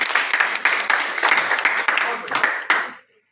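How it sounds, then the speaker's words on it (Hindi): Audience applause at a network marketing meeting, a dense burst of many hands clapping loudly for about three seconds before cutting off abruptly. "एक बार जोरदार तालियां बजाओ फिर"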